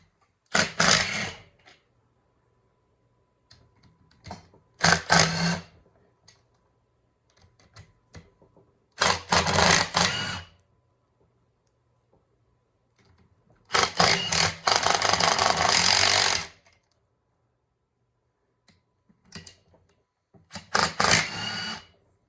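Impact wrench zipping out 10 mm bolts on top of a Yamaha Banshee engine during a teardown, in several loud, close bursts of one to three seconds with quiet gaps between, the longest run near the middle.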